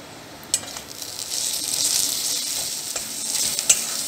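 Spices with black pepper powder, sugar and salt sizzle on high heat in a pan for mushroom curry, a moderate frying hiss with a few sharp clinks and scrapes of a stirring spoon.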